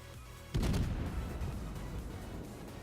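A Moskva cruiser's main battery volley in World of Warships lands as one sudden heavy boom, followed by a long rumbling decay that lingers under the game's ambient noise.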